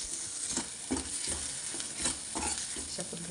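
Spices for masala methi sauté in oil with sesame, coconut and peanuts. A close sizzle is punctuated by rhythmic spatula stirring strokes roughly every half second, moderately loud, with no talking.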